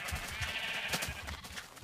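Sheep bleating in Minecraft, a couple of faint, short bleats in quick succession, heard alone.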